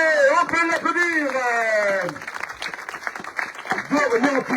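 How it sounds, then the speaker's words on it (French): A crowd applauds a junior U19 cyclist at the awards ceremony of the Tour de l'Orne race, with lively clapping rising from behind a male announcer's voice and carrying on loudly as his speech drops away. "Je vous demande un tonnerre d'applaudissements pour le premier U19, Dorian Piquet"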